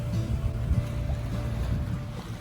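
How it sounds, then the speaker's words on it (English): Low, steady water sloshing against a sailboat hull in the open Adriatic Sea, with soft rhythmic slaps and a faint hum underneath, no voices. "The waves roll and slap against the hull with that steady rhythm you only hear when you're far from land."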